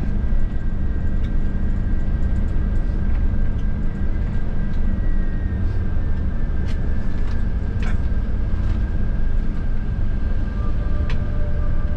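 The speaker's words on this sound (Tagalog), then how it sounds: "Ingay din ang preno niya, oh." A large hiker-style passenger jeepney moving through light traffic in Antipolo city, with a sustained tonal brake squeal riding over a steady, loud engine and road rumble and some sharper squeaks in between.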